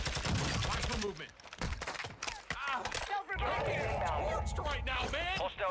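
Gunfire in the Call of Duty: Warzone video game, bursts of shots mixed with game sounds and effects, heard under continuous talking.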